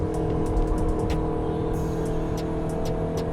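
A Nissan Serena minivan picks up speed from 80 km/h, its engine and road noise forming a steady, close drone throughout with a low rumble and no talk.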